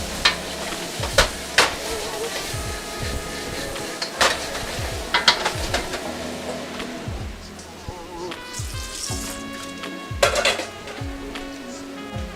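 Onions sizzle and fry in a carbon steel wok while a utensil scrapes and stirs them in repeated sharp strokes, the frying hiss continuing steadily underneath, close and moderately loud.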